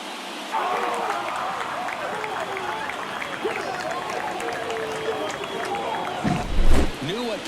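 A stadium crowd in an MLB video game roars after a home run in an Oakland A's at Seattle Mariners playoff matchup, sustained loud cheering and hubbub with a bright ringing whistle-like tone running through it, swelling toward the end.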